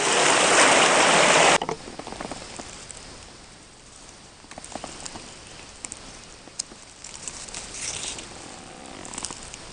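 Creek water flows steadily in the woods, a continuous soft rushing and trickling with scattered small splashes, near and moderately loud after a brief louder burst of noise at the start.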